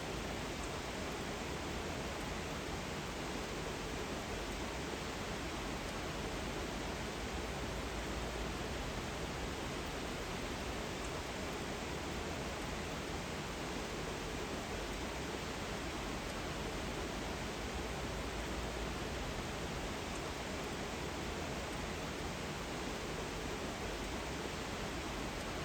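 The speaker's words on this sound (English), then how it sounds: "The waterfall is fed from the lake above." A waterfall in a Norwegian fjord, fed from a lake above, roars as a steady, dense rush of falling water that stays unchanged throughout.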